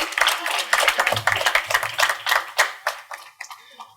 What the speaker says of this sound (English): Yeah, you can clap now.